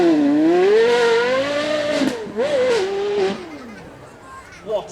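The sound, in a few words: Ferrari GT engine revving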